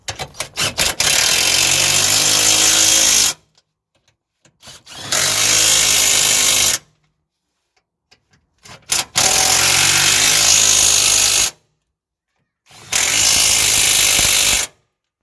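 An impact gun tightening anti-roll bar bush bolts on a Toyota Prius fires in four loud rattling bursts of a few seconds each, separated by silent gaps, close up with no talk.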